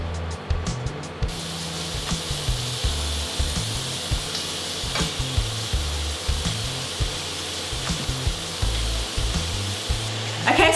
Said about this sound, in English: I'm going to start cooking the beef patty